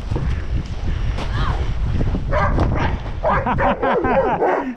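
Dog barks and yips repeatedly outdoors during a spring snowball fight, close and loud over steady wind noise on the microphone, with people's voices faintly mixed in.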